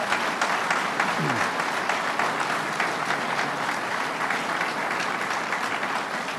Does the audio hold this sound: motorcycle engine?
no